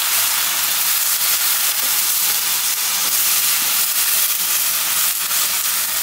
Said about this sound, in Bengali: তেলের মধ্যে পেঁয়াজ রসুন কাঁচামরিচ সব দিয়ে দিচ্ছি একবারে